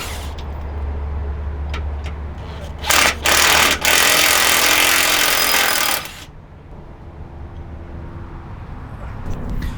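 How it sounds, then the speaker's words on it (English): A power tool with a 14 mm socket runs in a loud burst lasting about three seconds while sway bar bolts are removed from a car. Quieter workshop noise comes before and after it. "with the 14 millimeter socket, we're going to take off these two bolts from the sway bar"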